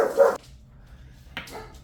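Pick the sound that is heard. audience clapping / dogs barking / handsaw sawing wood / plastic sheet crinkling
dogs barking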